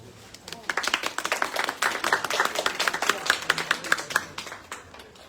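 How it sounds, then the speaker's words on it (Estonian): A small audience at an Estonian book launch claps, starting thin and building into steady, close, distinct hand claps that carry on for several seconds. "aplaus."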